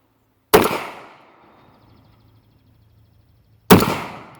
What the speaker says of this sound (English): It's a nice loud gun.